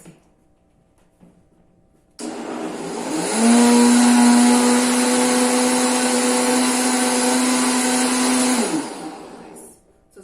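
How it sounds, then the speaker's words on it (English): A countertop blender whirs through a vegan pumpkin pie smoothie with spices, its motor ramping up to a loud, steady whine for several seconds before winding down, heard alone without speech. "So we're going to put all of that in our blender."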